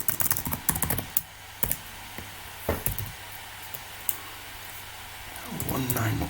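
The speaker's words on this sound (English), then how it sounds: "I'm just going to quickly bring up Chrome and type in the IP address" Typing on a laptop keyboard, a quiet run of scattered key clicks and taps in a still room, with a soft rustle near the end.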